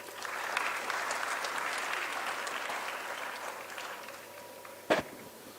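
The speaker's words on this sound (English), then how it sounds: "Now I invite him for his words of wisdom with a big round of applause." A crowd applauds steadily for several seconds, the clapping gradually fading, with a brief sharp bump near the end.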